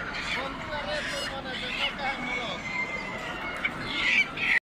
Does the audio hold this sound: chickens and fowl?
yes